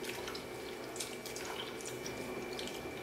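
Water being poured onto chopped citron fruit in a bowl to make juice, a faint, steady trickle and splash with small drips, quiet and without talking.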